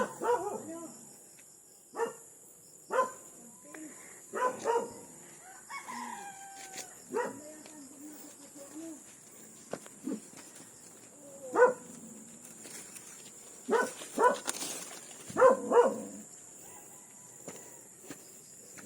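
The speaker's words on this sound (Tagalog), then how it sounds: "May aso." A dog barks in scattered short bursts outdoors in rural Bicol during guava picking, with roosters crowing and clucking nearby and people talking now and then.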